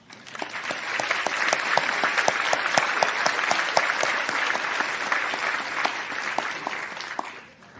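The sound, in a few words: commencement audience applause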